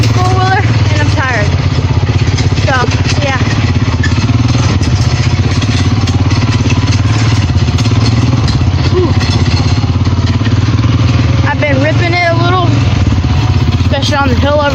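A four-wheeler's engine runs loudly and steadily during a bumpy ride, its rough mid-pitched drone filling the whole stretch while people talk over it.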